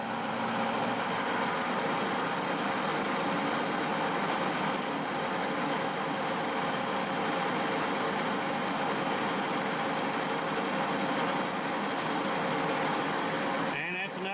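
A metal lathe turns a high-strength racing cam follower at 487 RPM with a .200 depth of cut, giving a steady, loud machining drone that continues without a break before a brief change at the very end.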